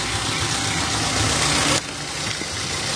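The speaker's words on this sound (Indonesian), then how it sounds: "Ini sudah saya nyalakan mesinnya ya, engine-nya sudah hidup." A running car engine idles in a steady, rough low rumble close by, with a brief louder rush that drops off midway, and no speech.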